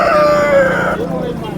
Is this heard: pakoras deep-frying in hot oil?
no